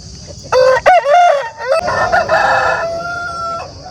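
An Aseel rooster with white-peacock colouring, about 25 to 26 inches tall, crows loudly and close at a Saturday fowl market in Mydukuru, a drawn-out call followed by a wavering tail, over a background of crowd noise.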